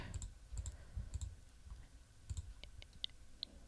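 A computer mouse clicks faintly and sparsely during quilt-design work in Electric Quilt 8 software, with scattered soft taps and two sharper isolated clicks near the end over a quiet background.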